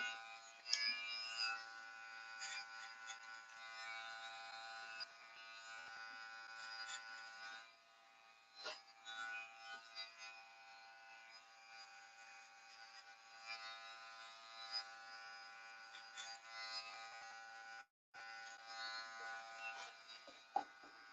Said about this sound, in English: I've got to just get a little bit softer with my clipper and comb